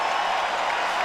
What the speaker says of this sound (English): this crowd loves it, they're on their feet